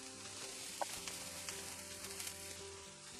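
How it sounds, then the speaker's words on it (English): Steady, close sizzling of garlic frying in hot oil, a dense crackling hiss with small pops and no voices. "the oil is all heated up now, and so just pop that straight in. You can hear that sizzle"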